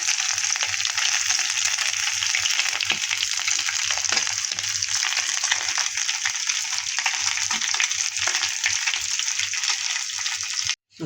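Bata fish frying crisp and red in a pan after being turned, giving a loud, steady, close sizzle with continuous crackle and no voices.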